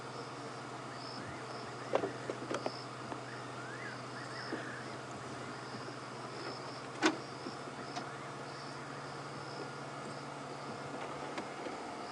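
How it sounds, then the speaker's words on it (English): Night insects on a safari drive, a steady, faint chorus of chirping and buzzing with a low hum underneath and a couple of brief soft knocks. "all we can hear is some insects around us"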